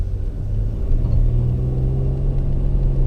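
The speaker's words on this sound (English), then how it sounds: "you certainly kind of notice it in the exhaust note" A 2018 Nissan Pathfinder's exhaust note rumbles low and steady, a close, continuous engine drone with no talking over it.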